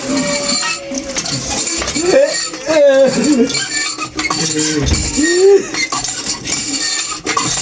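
Metal dishes, pots and utensils clink and clatter repeatedly during washing in a home, close and fairly loud, mixed with voices talking over the clanking.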